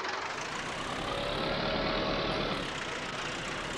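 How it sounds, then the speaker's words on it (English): An old tractor's engine idles in Farming Simulator 19, a steady, continuous low rumble that holds even and fairly loud for the whole stretch with no talking. "Well, that's a nice wee tractor, this, isn't it?"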